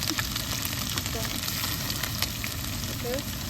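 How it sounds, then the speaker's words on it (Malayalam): Coated chicken pieces for chicken kondattam sizzle steadily in hot oil, a dense continuous frying hiss with faint crackles throughout, close and fairly loud, with no talking. "2-3 പ്രാവശ്യമായിട്ട് നമുക്കതൊന്ന് വറുത്തെടുക്കണം"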